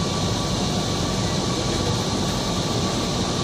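A steady, even rumble and hiss fill a moving Kochi Metro train car, with a faint continuous tone and no distinct voices or events, loud and constant.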